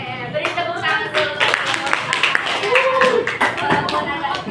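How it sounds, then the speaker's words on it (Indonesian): A small group at a student presentation on gourami fish farming claps together, a busy patter of hand claps mixed with voices talking over it throughout. "Oke, beri tepuk tangan dulu."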